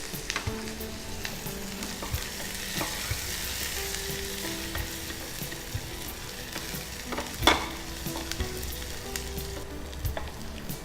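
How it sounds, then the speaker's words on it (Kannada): Onions frying in ghee, a continuous close sizzle with occasional stirring scrapes and one sharper knock partway through, no voices. "ತುಪ್ಪಕ್ಕೆ ನೀರುಳ್ಳಿ ಹಾಕಿ ಮತ್ತೆ ಪ್ರೊಸೀಜರ್ ಮುಂದೋಗುತ್ತೆ."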